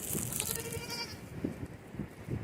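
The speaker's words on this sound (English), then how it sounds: "These goats, they are crazy. They are just like right up on me. They want the food." Several goats crowd close around someone carrying food at an animal farm in Baja, Mexico, letting out short, nearby bleats in quick succession over a rustling background.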